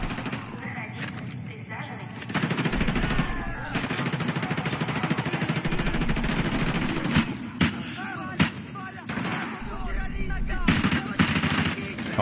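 Gunfire in the video game Modern Warfare 2 crackles in sharp repeated shots and bursts over a busy game soundscape, with a voice talking through much of it.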